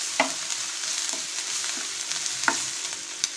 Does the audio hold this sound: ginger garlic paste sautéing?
yes